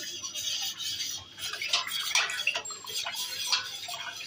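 Mixing Glucon D ice cream mixture by hand in a bowl: wet splashing and sloshing with light clinks, close and fairly soft, in irregular bursts.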